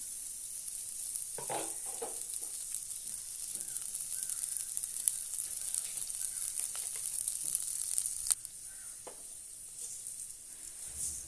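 About a tablespoon of oil heats in a hot pan on the stove, giving a faint, steady hiss with occasional soft crackles, close but quiet and without talk.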